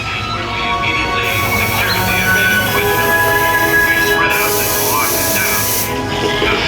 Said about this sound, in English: prepare for decontamination